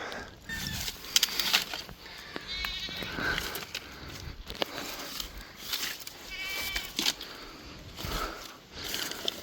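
Goats on a farm bleat repeatedly in a noisy outdoor pen, several calls overlapping with rustling and handling sounds, moderately near.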